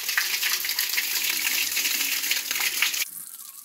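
Water gushes steadily into a drinking water tank, a bright continuous splashing rush that cuts off abruptly near the end, leaving a quieter trickle.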